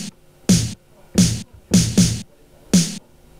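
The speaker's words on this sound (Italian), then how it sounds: "Poi c'è il rullante, invece è costituito da tre suoni" Snare drum hits built from three different layered samples in a produced beat, five sharp bright cracks with noisy tails in a steady rhythm, loud and alone.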